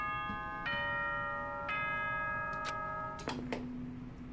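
A multi-note announcement chime from the video game Danganronpa: Trigger Happy Havoc rings out clearly, with sustained bell-like tones stepping through a melody and then a lower held note, alone without speech.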